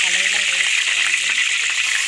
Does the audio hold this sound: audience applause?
no